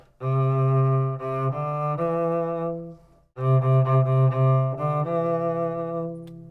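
A bowed cello plays a smooth, singing melody in two phrases separated by a short pause, close and clear.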